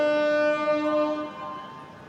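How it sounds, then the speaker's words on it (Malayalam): A loud, sustained horn blast from the Trivandrum Veraval Express sounds close by, holding steady for over a second before fading out into rumbling rail noise. "ഒരു ഹോണടി കേട്ടു."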